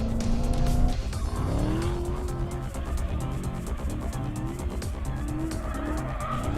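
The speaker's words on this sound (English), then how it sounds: "The Dodge Demon is not a drift car, but right now it is." A Dodge Demon drifting with traction and stability control off, tires squealing and skidding loudly over a roaring engine that rises and falls steadily throughout.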